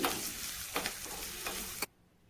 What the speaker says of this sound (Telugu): కొద్దిగా కరివేపాకు ఎండుమిరపకాయను కూడా వేసుకొని మొత్తం కూడా ఫ్రై అయ్యే వరకు కలుపుకోవాలి